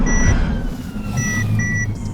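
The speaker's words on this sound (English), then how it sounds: "It beeped at him." Collision warning beeps from a Mercedes test car closing on a motorcycle at a testing facility, several short high-pitched tones repeating at intervals over a steady low road and engine rumble.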